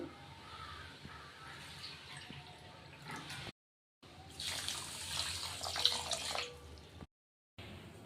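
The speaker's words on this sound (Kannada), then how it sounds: "ನೋಡಿ ನೀರು ಸೇರಿಸ್ಕೊತಾ ಇದ್ದೀನಿ ನಾಲ್ಕು ಕಪ್ ಆಗೋಷ್ಟು" Water pouring into a pan to make sugar syrup for shahi tukda: a soft running stream, then a louder, brighter gush after a short break, with brief silent gaps between pours.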